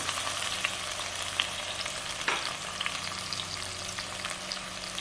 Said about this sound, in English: I'm going to let all this kind of cook together until everything gets kind of saucy